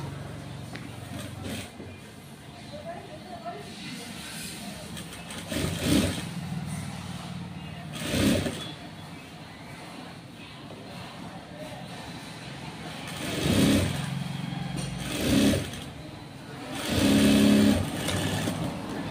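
A sewing machine stitches a blouse seam in several short runs of whirring stitches, separated by pauses, over a low steady room hum.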